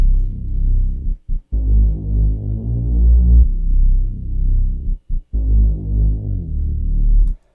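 A deep FL Studio sub bass plays a simple pattern following the bass notes, with pitch slides between sustained, throbbing low tones separated by brief gaps, loud and alone.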